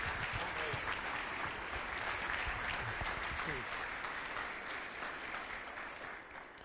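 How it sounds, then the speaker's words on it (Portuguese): Congregation applause at a church gathering, a steady wash of clapping that holds for several seconds and slowly softens toward the end, with faint voices beneath. "Uma salva de palmas a eles."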